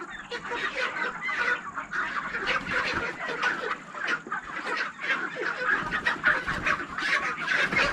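A dense flock of chickens at a poultry farm clucks and squawks continuously, many overlapping calls close by and fairly loud, with no talk over them.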